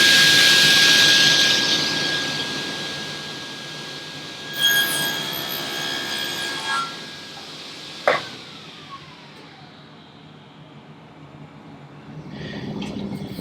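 A table saw blade cuts a groove in wooden drawer stock pushed along the fence: a loud whining spin-up at first, then bursts of cutting as the piece passes over, a sharp knock, and the blade winding down.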